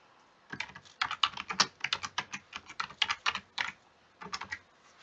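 Typing a map title on a computer keyboard, a quick run of close, crisp key clicks in uneven bursts, with a short pause before a final few strokes.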